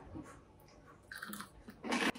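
Tomato and oregano bruschetta on toasted bread is bitten into, giving a few crisp, close crunches and chewing sounds, with a sharp louder crunch near the end and quiet pauses between bites.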